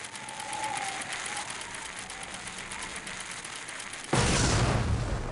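A placed explosive detonates in the game Indiana Jones and the Emperor's Tomb, a sudden loud broadband blast near the end that follows steady background game ambience.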